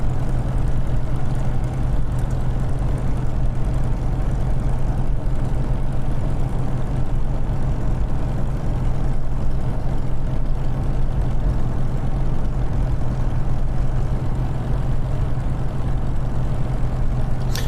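A Spitfire's piston engine idles steadily and loudly in Microsoft Flight Simulator after a night start, a continuous deep rumble with constant vibration and no talk.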